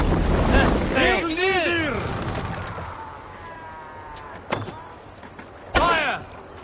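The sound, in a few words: sailing ship in wind and waves, from video game Assassin's Creed Valhalla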